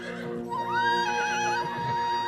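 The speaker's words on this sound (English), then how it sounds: "there were wild horses roaming around this area" Wild horses on hillside cliffs neighing, a long wavering whinny rising and falling over a couple of seconds, clear and fairly close, with a second, lower snort-like call near the end.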